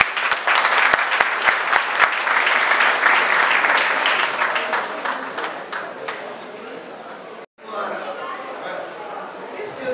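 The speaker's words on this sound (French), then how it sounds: "Applaudissez." Loud, dense applause from a crowd at a wedding ceremony in Brazzaville. Voices call out over the clapping, which drops off briefly near the end and then resumes more thinly.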